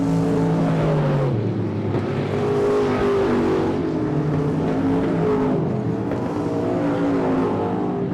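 Late model race cars circle I 37 Speedway on the final lap, engines blending into a loud, continuous drone that rises and falls slightly as they pass, with no voices over it.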